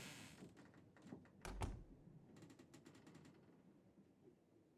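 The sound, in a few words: door opening in the video game Alida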